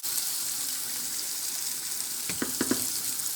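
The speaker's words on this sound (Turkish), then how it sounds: "Şimdi kaynamış sıcak suyumu ilave ediyorum." Boiled hot water pours into a pan of eggplant and minced meat, raising a steady hiss and sizzle, followed by a few short splashy bursts near the end; no talking.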